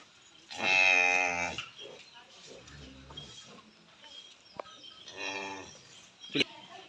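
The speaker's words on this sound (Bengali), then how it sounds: "কত সুন্দর কত বড় একটা গাভী" A large dairy cow on a farm in Jashore lets out a long, loud moo, followed by a second shorter low call a few seconds later, with faint background noise and a sharp knock between them.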